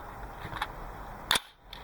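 A single sharp report from a rifle firing a 5.56 mm 55-grain round through a 16-inch barrel, heard from a distance as one brief crack with a short tail.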